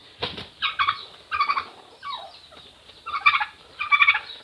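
A turkey gobbles in a poultry shed, giving several rapid rattling bursts in quick succession, fairly close and clear over a quiet background.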